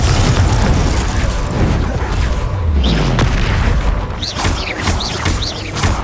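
Repeated Confringo fire spells detonate in Hogwarts Legacy combat, heavy booming blasts rolling over dense battle noise with sharp magical whooshes and crackles, loud and continuous throughout.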